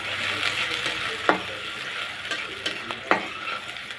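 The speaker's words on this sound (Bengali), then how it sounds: "তেলটা গরম হলে দিয়ে দিব পেঁয়াজ কুচি, কাঁচামরিচ ফালি।" Chopped onion and sliced green chili frying in hot oil in a wok, a continuous sizzle broken by a few sharp scrapes and clicks of stirring.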